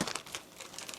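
A plastic bag for a churro piping bag being torn open along its diagonal line, with close, soft crinkling and a brief ripping texture, fairly quiet and unaccompanied by speech.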